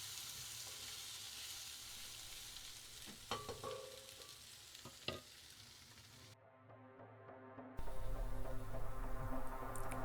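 Onions frying and reducing in a single pan on a campervan stove, a steady close sizzle with a few light clanks of stirring midway, the crackle briefly dropping out then returning louder.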